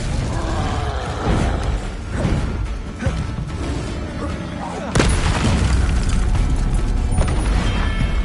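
Expelliarmus disarming spell cast in Hogwarts Legacy, a magical whoosh with a heavy boom and mechanical clanks under steady game sound, getting louder and denser partway through.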